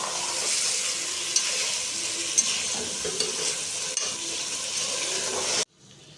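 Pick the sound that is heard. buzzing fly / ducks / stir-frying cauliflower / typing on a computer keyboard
stir-frying cauliflower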